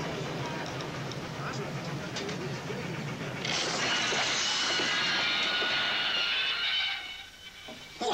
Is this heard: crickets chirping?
no